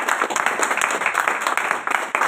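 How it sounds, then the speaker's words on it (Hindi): An audience at an FBO training seminar claps loudly for the presenter, a dense, continuous burst of applause with crisp individual claps standing out, kept at a steady high level with no talk. "एक बार रैक्स सर के लिए जोरदार ताली।"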